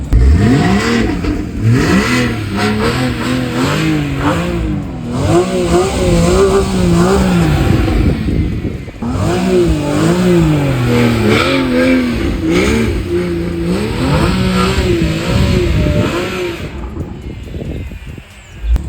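A Porsche engine revs hard and repeatedly while the car spins donuts, the pitch rising and falling in loud continuous sweeps that ease off near the end.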